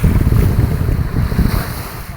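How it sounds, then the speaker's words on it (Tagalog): Strong wind buffets the microphone at a seaside island beach resort, a loud, continuous roar with gusty rumbling and surf behind it. "malakas ang hangin"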